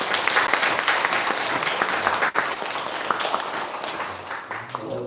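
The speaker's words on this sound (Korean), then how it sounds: "자, 우리 박수로 한번 부르겠습니다." A church congregation at a Sunday worship service claps together in sustained, dense applause, with a brief dip midway before the clapping carries on and thins toward the end.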